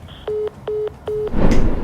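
A disconnected telephone call tone: three evenly spaced, steady beeps, each about a quarter second long, fairly loud and close. A burst of rougher noise follows them.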